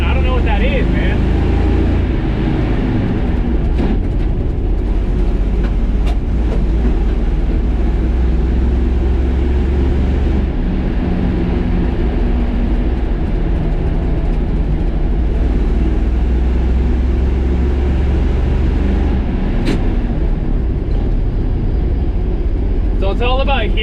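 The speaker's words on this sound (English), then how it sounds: "As the engine is revving up, this is what I'm learning from right now." An old farm truck's engine drones and revs loudly and continuously while the driver floats the gears, with a steady low rumble and slight shifts in pitch as it changes gear.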